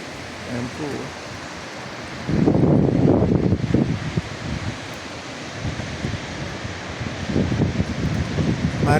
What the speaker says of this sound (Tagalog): Maririnig po ninyo ang mga lagiswis ng hangin na humahampas sa mga punong kahoy dito.